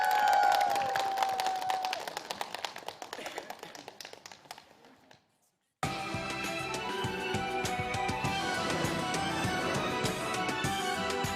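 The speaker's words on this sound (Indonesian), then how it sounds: "Tepuk tangan boleh?" Audience applause follows an introduction of child preacher contestants at a televised Islamic youth preaching program, a busy clapping wash that fades out, pauses briefly, then returns loud and sustained with music-like tones mixed in.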